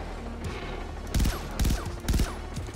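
Pistol shots from Far Cry 3 Blood Dragon crack out in three sharp, closely spaced bursts over quiet game ambience, each shot loud and percussive.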